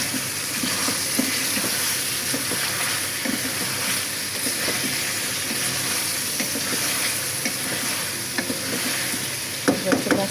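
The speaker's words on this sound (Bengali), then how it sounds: "মাংস একটু কষিয়ে নিলাম আগে, এবার আলু দিয়ে দিলাম।" Meat and potato chunks frying in a pan for a Bengali curry, a steady close sizzle with occasional stirring scrapes and a few clinks near the end, with no talking.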